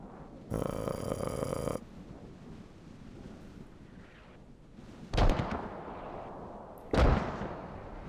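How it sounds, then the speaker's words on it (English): Mortar fire in the video game Squad: two loud, sharp booms land a couple of seconds apart near the end. Before them comes a sustained harsh noise burst, with a windy rumble running throughout. "Those might be US mortars trying to hit some infantry here. INS mortars coming out now."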